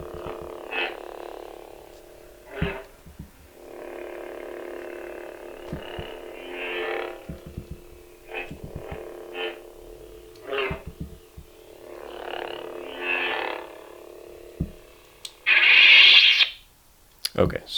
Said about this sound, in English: that's the blue kyber crystal noise in the lightsaber